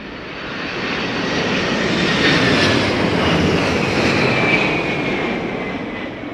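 An airliner lands at London Heathrow during Storm Darragh, its engine and rushing wind noise swelling to a loud peak midway and easing slightly toward the end, with no voices.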